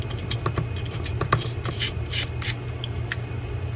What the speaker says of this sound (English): There's a little bit more of that bubbly paint as I mentioned, so I am going to scrape that off of there.